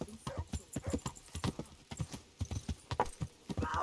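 Horse hooves clip-clopping in the medieval game Kingdom Come: Deliverance, a quick uneven rhythm of loud, close hoofbeats with occasional snorts and no speech.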